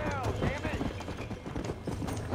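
Horse hooves clip-clop in a video game, a quick uneven run of galloping hoofbeats close up with game noise, while someone talks over them.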